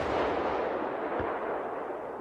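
Fixed main cannon of a Swedish S-tank firing, a heavy, broad boom with a long rumbling tail that fills the whole stretch.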